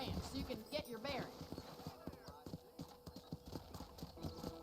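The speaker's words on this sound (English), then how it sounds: "Got a fine horse for you." Horse hooves clip-clop in a steady, continuous rhythm in Red Dead Redemption, with a game character's voice talking over the hoofbeats.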